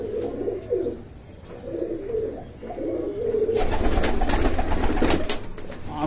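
Red-eyed Kasoori golden pigeons cooing in repeated soft throaty phrases, close by, with a louder burst of rustling and flapping in the second half.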